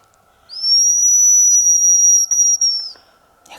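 A hunter's decoy whistle imitates a hazel grouse call in a forest: one long, high, thin sustained whistle lasting over two seconds, close and clear, with two brief breaks near its end.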